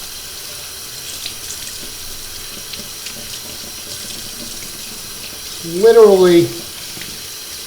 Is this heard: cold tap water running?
yes